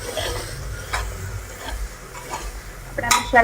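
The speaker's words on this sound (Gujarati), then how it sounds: "હળદર એટલે લાલ મરચું મસાલાને મિક્સ કરી દઈશું" Turmeric and red chili powder being stirred into rice in a pan for spiced village-style vaghariya bhat, soft scraping and sizzling with a couple of clinks of a spoon against the pot near the end.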